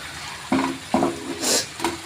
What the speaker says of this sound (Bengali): সুন্দর করে কষাবেন বন্ধুরা ডুমুরটাকে। এভাবে কষাতে থাকবেন।